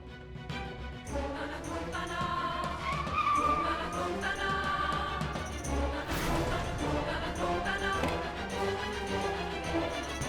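A car pulls away and skids, with a sustained engine roar and tire squeal, and a sharp crash-like burst midway, loud and close.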